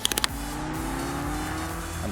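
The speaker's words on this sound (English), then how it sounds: "And the cars are already making their way out." Clio race cars in a PS4 eSports racing game roll out onto the track, engines droning steadily at close range after a few brief clicks, with no voices.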